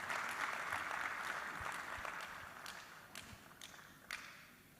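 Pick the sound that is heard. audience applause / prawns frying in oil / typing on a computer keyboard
audience applause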